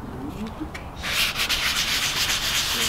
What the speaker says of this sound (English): now we're gonna continue to sand it down